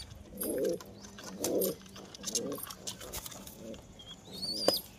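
Pigeons in a loft being fed mixed grains and chickpeas, giving several low throaty coos in a slow repeating rhythm, close by, with a short high chirp near the end.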